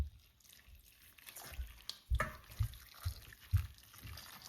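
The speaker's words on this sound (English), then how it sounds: "So now I pour it in a strainer in a bowl, and then use the water from the saltfish" Saltfish soaking water poured over ackee sitting in a strainer set in a bowl, giving scattered splashes and drips that grow louder toward the end, with no voices.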